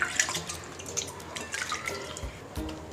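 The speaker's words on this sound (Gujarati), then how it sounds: "ફરીથી ચોખ્ખા પાણીથી હાથથી વોશ કરી નાખીશ" Hands being rinsed under clean running water, a soft close splashing and dripping trickle that runs steadily for a few seconds with no voices.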